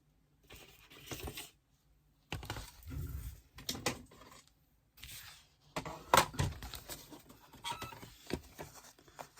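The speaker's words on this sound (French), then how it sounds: "je vais déjà couper ma cartonnette là" Scissors or a blade cutting through a small piece of cardboard while making a tunnel card, heard as a few close bursts of crisp snipping and scraping separated by short pauses, with no talking.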